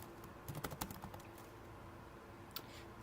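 Computer keyboard typed on while code is being refactored: quiet, irregular bursts of key clicks, busiest in the first second, then a lone sharp keystroke near the end, with no talking.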